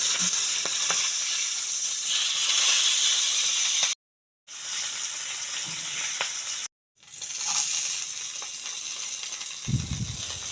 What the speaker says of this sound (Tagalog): I-prito hanggang maging golden brown tapos itabi mo muna.